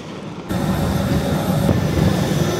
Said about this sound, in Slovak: Plánoval som sa vyspať tento let, ale ako môžete asi počuť, tak neviem, či to pôjde.